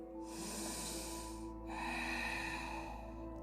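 Long nasal inhalations during a vinyasa flow yoga session, two drawn-out breaths close to the microphone separated by a short pause, over a faint steady hum.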